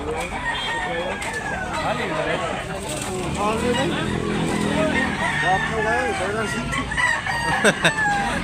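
Roosters crow repeatedly amid clucking chickens at a busy poultry market in Tabunok, Talisay, Cebu, the overlapping calls loud and close over a dense crowd murmur and background talk.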